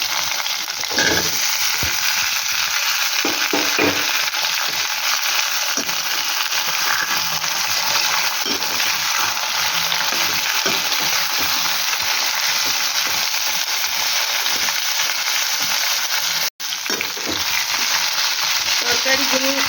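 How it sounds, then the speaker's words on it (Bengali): Mixed vegetables fry in a pan with oil, a loud continuous sizzle that fills the whole stretch, broken by occasional clinks and scrapes of stirring, with no voices. "তরকারিগুলো আমার ভাজা হয়ে গেছে"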